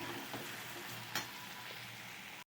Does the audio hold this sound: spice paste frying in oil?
yes